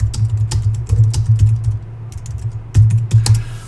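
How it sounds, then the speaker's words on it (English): Computer keyboard being typed on to enter a search for a library item, with close, loud, irregular key clicks in quick bursts and no talking. "I'm going to use the search box over here and type in the name of the item I'm looking for."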